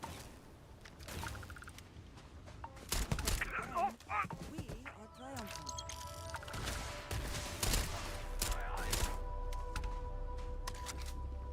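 Energy-weapon gunfire in the space game Starfield, a string of sharp zapping shots and impacts scattered through a busy combat mix, mid-loud, with voices talking over parts of it.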